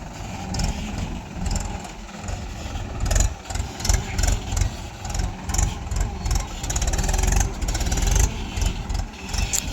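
A Mahindra 90 turbo tractor idles outdoors at a dirt site, its low diesel rumble steady and fairly loud with small throttle surges, while a person speaks briefly nearby.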